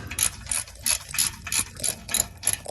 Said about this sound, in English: 9/16 wrench. Hook that up, and hopefully this comes off as easy as the other side.